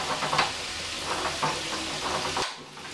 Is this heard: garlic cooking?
yes